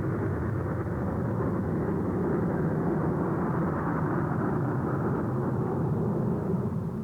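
Messerschmitt Me-262 jet fighter, a World War II swept-wing warplane, heard as a continuous heavy low roar that holds steady and loud throughout, with no voices.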